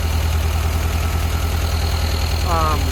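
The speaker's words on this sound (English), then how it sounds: "how to get it to run smooth, and it's idling better." The fuel-injected engine of a 1971 VW Squareback idles in a low, steady, rhythmic chug close by, with a faint higher whine rising briefly near the end.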